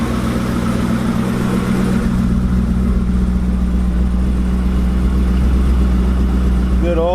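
A 2023 Dodge Charger Last Call engine idles steadily with a deep, even rumble and constant low drone, loud and close, holding the same pitch throughout.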